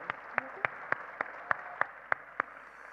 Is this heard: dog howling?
no